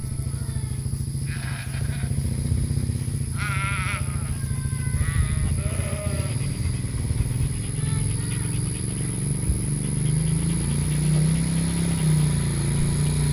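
Sheep bleat repeatedly while running past into a new pasture, several cries rising over a constant low engine-like rumble and field ambience.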